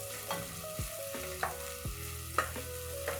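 Onions frying in a pan for Kenyan githeri give a steady, close sizzle with several soft scrapes and knocks of stirring spread through, no voices.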